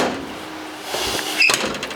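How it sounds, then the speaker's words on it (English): A car door on a 1985 Mercury Capri Foxbody with fresh weather stripping and a badly adjusted striker shuts with a single short thud in a quiet garage. "Let's see how the door closes now."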